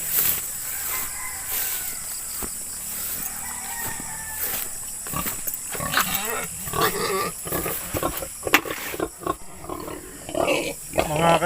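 Grunting from the lone pig on a small backyard farm, mixed with clucking chickens and a crowing rooster in the background, with scattered handling noises and bursts of activity throughout.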